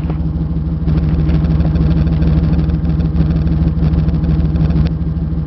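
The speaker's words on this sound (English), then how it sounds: "Like the engine sounds really nice." A 1994 Chevrolet passenger van engine idles loudly and steadily up close, a deep even rumble with a constant low hum and no talking.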